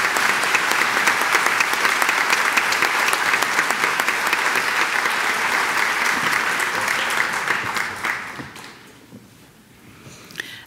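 An audience at a 2022 school commencement ceremony breaks into loud, dense applause that holds steady for about eight seconds and then fades into quiet, with a brief murmur near the end.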